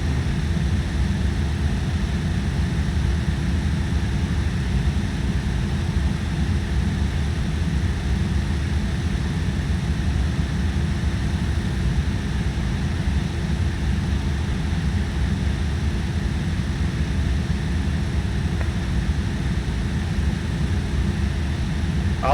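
Propeller aircraft engine in the X-Plane 12 flight simulator game, a steady loud drone with a deep rumble that holds unchanged throughout, with no talking.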